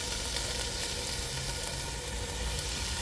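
Garlic fries in bacon grease in a pan, giving a constant dense sizzle at an even, moderate loudness, with no talk over it.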